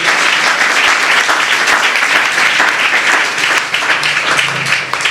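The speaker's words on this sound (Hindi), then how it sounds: "एक बार जोरदार तालियां बजाएं।" Students at a coaching centre in Safidon give a loud, sustained round of applause, a thick and steady wash of clapping hands with no pauses.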